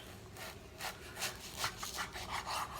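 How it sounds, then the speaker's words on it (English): Knife slicing beef into strips for jerky, a repeated soft rasping drag as the blade saws through the meat, close and fairly quiet with an uneven back-and-forth rhythm. "I'm going to finish cutting this up and getting it into strips"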